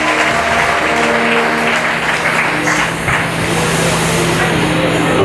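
A church congregation applauds to welcome Pastor Jimmy to the pulpit: loud, continuous clapping from a crowd close by, sustained evenly throughout with a murmur of voices underneath.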